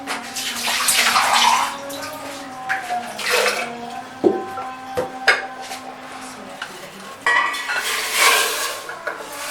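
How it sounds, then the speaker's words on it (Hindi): Water is poured and splashed into tamarind and plum sharbat in a pot, sloshing and trickling with clinks of utensils and dishes throughout. "थोड़ा सा और पानी जाएगा इसमें।"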